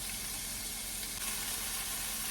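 Vegetables sauté in a hot pan for pasta with meatballs, giving off a steady, loud, close sizzle and hiss that runs unbroken throughout, with no voices over it.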